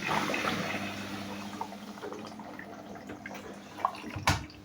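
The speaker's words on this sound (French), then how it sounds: "dès qu'elle est en eau, ben, je te reprends" A washing machine fills with water during a white-laundry stain test with Gama Pro detergent, giving a steady rushing, trickling flow with a few small knocks and clunks near the end, close by and moderately quiet.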